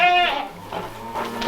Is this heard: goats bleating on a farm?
yes